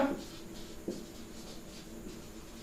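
Pen writing out a quadratic-equation solution in a class 10 maths lesson, faint scratching strokes heard close and quietly, with a brief spoken word near the start.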